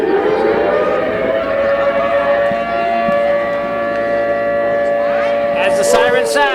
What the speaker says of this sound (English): As the siren sounds.